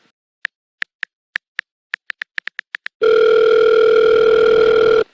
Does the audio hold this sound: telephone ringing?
yes